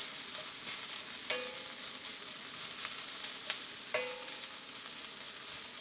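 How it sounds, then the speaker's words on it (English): Broccoli browning in a hot pan sizzles steadily at close range, broken by a couple of sharp scraping strokes as it gets stirred with a utensil. "We'll give it a stir, let it brown one more time."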